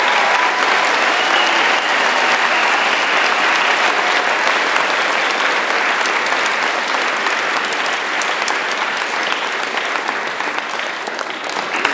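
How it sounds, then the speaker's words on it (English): A big round of applause from the audience at a school winter assembly, a sustained loud crowd of clapping hands that holds steady and tapers slightly near the end, with no speech over it. "I would like to ask Katie Sloan, wherever she is, to stand and receive a big round of applause."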